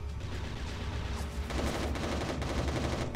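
Gunfire in the video game Resistance Retribution, a dense rattle of rapid shots that starts lighter and turns into a heavy, sustained burst of automatic fire.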